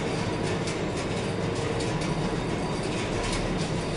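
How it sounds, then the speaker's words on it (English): Vintage Otis elevator in motion in an engineering building, a continuous loud low rumble with steady mechanical hum and light rattling. "Love the sound of this elevator."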